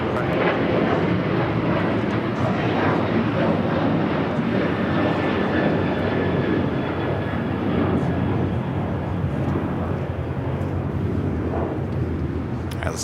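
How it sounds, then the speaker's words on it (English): An Airbus A380 airliner arrives at LAX airport in Los Angeles. Its loud, continuous jet roar fills the air with a broad rushing drone and a faint whining tone, sustained steadily from start to finish. "The A380 Super is the next arrival on the north side."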